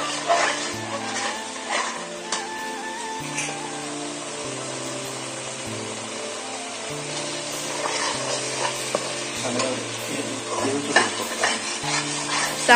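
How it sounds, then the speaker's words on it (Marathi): Tomato paste frying in oil for a Khandeshi-style brinjal curry, stirred steadily, with a continuous close sizzle and scraping under a low background hum; no voices. "आता याच्यामध्ये टमाट्याची जी पेस्ट टाकली आहे ती चांगले तळून घ्यायची आहे"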